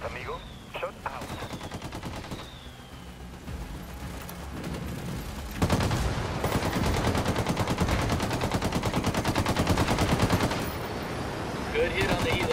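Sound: gunfire from a video game, Ghost Recon Wildlands

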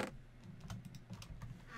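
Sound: typing on a computer keyboard

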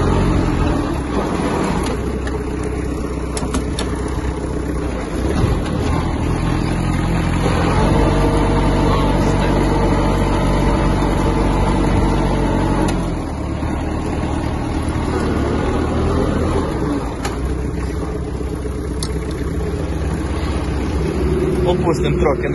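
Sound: Kubota X-20 Japanese mini tractor engine running

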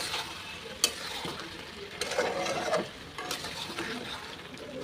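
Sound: potatoes being sautéed and stirred in a pan

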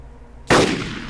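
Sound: gunshots in Arma 2 DayZ Mod video game

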